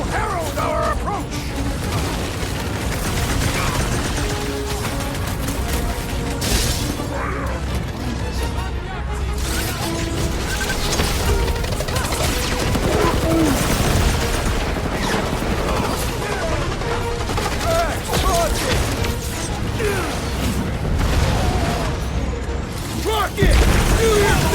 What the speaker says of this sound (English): Lots of explosives out here. The explosions will herald our approach!